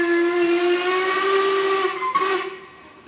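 Steam locomotive 41298 sounds a long, loud steady whistle as it starts moving at a spring gala on the Isle of Wight Steam Railway, ending with a hissing burst as it fades.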